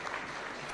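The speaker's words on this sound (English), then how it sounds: "A round of applause, please" Brief burst of audience applause for a winner at a business awards ceremony, even continuous clapping throughout a short moment.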